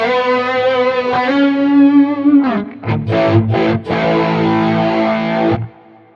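Guitar played through a Quad Cortex chorus effect with added drive, a held distorted note swelling and wavering, then choppy strummed chords before ringing out and stopping.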